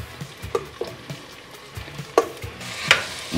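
Ground meat hitting an onion sofrito in hot oil and being stirred, with a steady sizzle under a series of sharp scraping strokes of the spoon against the pan, close and fairly loud.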